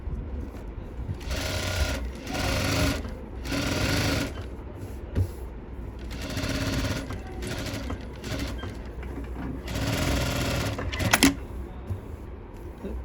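A sewing machine runs a loose tacking stitch along a sleeveless blouse, coming in several steady bursts of a few seconds each with short pauses between them, close and fairly loud.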